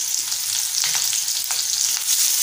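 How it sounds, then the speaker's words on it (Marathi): Steady close sizzling of potatoes sautéing with curry leaves, crushed garlic and sliced onion in a hot pan, a continuous bright frying hiss with occasional soft stirring scrapes. "आणि छान परतून घेऊया।"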